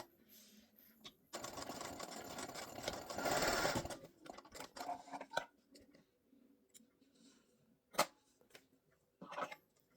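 A sewing machine stitches around the curved edge of fabric for a small drawstring pouch, in a few uneven bursts: a long, loud run early on, then shorter starts and stops with quiet pauses between.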